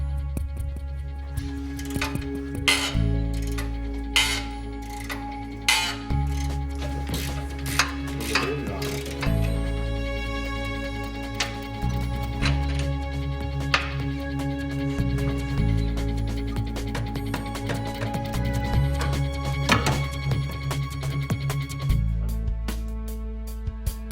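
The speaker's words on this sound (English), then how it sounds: "Remove the bolts and nuts on the strut mounting of the steering knuckle." A ratchet wrench loosens the bolts and nuts on the strut mounting of a steering knuckle, clicking in repeated bursts over a steady low mechanical hum, with no talking.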